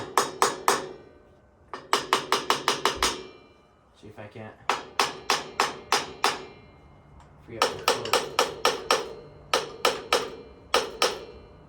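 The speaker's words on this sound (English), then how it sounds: "there's a hammer right there" Metal hammering on an old Farmall Super C tractor in quick bursts of sharp, ringing strikes, several clusters with short pauses, while someone speaks briefly between them.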